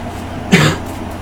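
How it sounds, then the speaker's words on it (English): A single short cough from a sick man, close and fairly loud, standing out briefly against a quiet background with no talking. "He coughs again."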